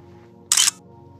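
A single camera shutter click snaps a selfie inside the Icehotel in Sweden, one sharp burst standing alone against a quiet room hum.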